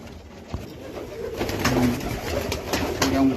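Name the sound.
pigeons cooing at a farm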